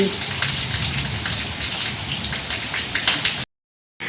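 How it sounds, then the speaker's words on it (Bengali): A torrential downpour roars steadily outside, a thick continuous wash of rain that cuts out abruptly near the end and returns briefly. "একেই বলে মুষলধারা বৃষ্টি"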